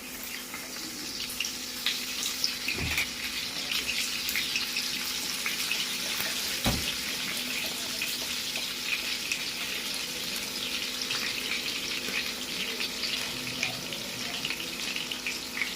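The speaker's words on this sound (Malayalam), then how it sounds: "എണ്ണ ചൂടായിട്ടുണ്ട് അതിലേക്ക് നമുക്ക് ആദ്യം വെളുത്തുള്ളി ഇട്ട് കൊടുക്കാം" Garlic dropped into hot oil in a pan for a clam fry: a steady, dense, close sizzling hiss fills the whole stretch, broken by a couple of dull knocks.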